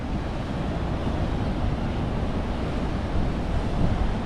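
Ocean surf on the coast heading toward Byron Bay, Australia, a continuous deep roar of breaking waves mixed with wind buffeting the microphone, loud and steady throughout.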